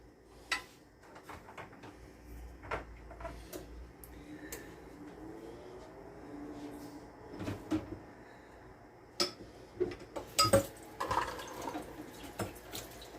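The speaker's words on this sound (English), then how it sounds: "Let's get this stirred up. And we add 2 eggs in this." A spoon stirs macaroni and cheese with eggs in a pot, giving scattered scraping clinks that grow busier toward the end, with a wet, dripping undertone nearby.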